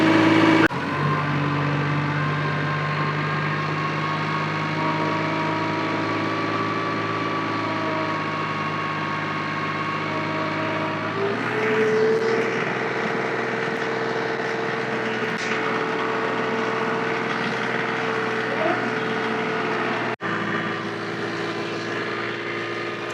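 A 25 hp compact tractor pulls a 60-inch IronCraft heavy-duty reverse tiller through rough garden soil. The engine drones loud and steady throughout, its tone shifting slightly partway as the load changes. No one speaks.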